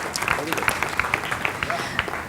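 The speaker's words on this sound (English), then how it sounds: "A round of applause, ladies and gentlemen," A crowd claps at a steady pace, the applause fairly loud and even for a couple of seconds, with voices mixed in.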